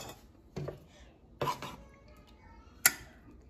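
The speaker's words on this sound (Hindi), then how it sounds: "मैं इनको डिश आउट करती हूँ जी।" Gulab jamun served out into a dish: three separate clinks and scrapes of a utensil against crockery, the last sharp and bright, with quiet pauses between.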